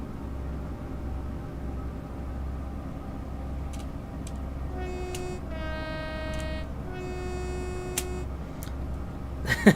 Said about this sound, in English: enjoy the noise that the old diesel engine produces.